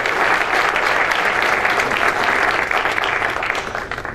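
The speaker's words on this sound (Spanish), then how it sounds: "Un aplauso muy fuerte a la Escuela Superior de Comercio y Administración" An audience at an environmental cooperation awards ceremony gives loud, dense applause to an award-winning business school. The clapping stays steady and close throughout, easing slightly near the end, with no voices.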